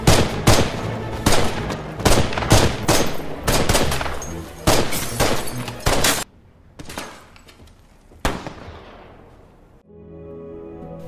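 Gunfire in a war film set against Nazi troops: loud, close bursts of rapid shots and single cracks for about six seconds, then scattered heavier shots that echo and fade into quiet.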